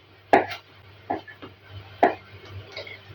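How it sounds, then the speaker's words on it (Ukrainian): A knife chops pumpkin gnocchi dough against a cutting board in a few separate, crisp strokes, close by, with quiet pauses in between. "Просто наріжу ось такі галушки."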